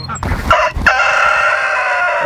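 Homestead chickens feeding on a T-bone give loud, close calls, with a couple of short noisy bursts before a drawn-out, crow-like cry that carries on to the end.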